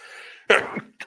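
One loud, close sneeze-like burst with a throaty tail follows a low murmur, then a brief second puff of breath ends the moment in a quiet indoor setting.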